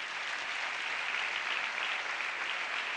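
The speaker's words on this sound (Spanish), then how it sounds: "un aplauso para él." Steady, dense applause from a studio audience on a Spanish-language talk show, sustained and evenly loud from start to finish with no voices over it.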